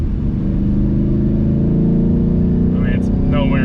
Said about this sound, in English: Tell you what, these Roush Exhausts sound really good.